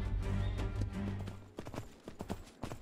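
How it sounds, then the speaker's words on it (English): Horses trotting in the survival game Myth of Empires, a steady rhythmic clip-clop of hooves close by, with a brief whinny heard over continuous game ambience. "I went ahead and tamed two horses off cam, and now we are on the way taking them back to base"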